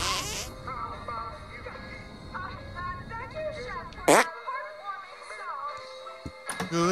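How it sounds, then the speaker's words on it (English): A single short, loud fart detonation in South Park: The Stick of Truth, followed by a quieter burst at the end, set against game music and chattering effects. "Make your fart detonate behind me."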